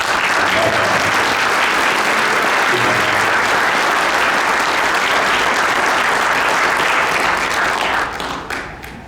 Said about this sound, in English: I'd like to give a big round of applause to all of the police, the fire, the emergency responders of Derby